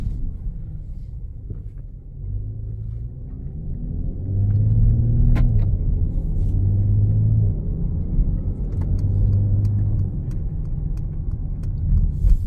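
A 2026 Mercedes-AMG GT 53 4MATIC's engine drones steadily from inside the cabin in sport mode, with low rumble rising and falling as it accelerates, over constant road noise.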